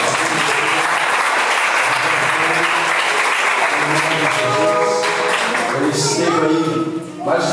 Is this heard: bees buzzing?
no